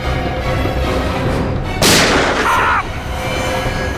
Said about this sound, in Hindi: सर गोली चली है